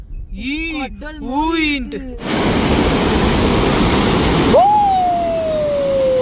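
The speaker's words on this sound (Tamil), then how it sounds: "நல்லா தண்ணி போகுது" Warbling voices come first, then a loud, steady roar of water rushing through a river dam takes over, followed by a sustained whistling tone above it.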